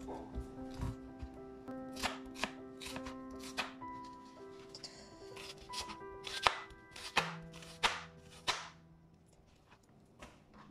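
A knife chops a white onion on a board, a steady series of crisp, close thuds and slicing taps with a faint hum in the background and no talking.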